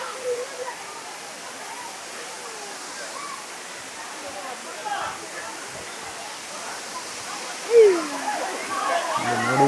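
Sirimane waterfall at Sringeri, dropping some 40-50 feet, gives a steady broadband roar of falling water heard from a viewpoint, with a voice speaking over it.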